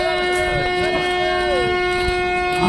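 A Varanasi-bound train at Chitradurga railway station gives off a loud, sustained tonal drone with a few sliding pitches layered over the rumble of the rail cars.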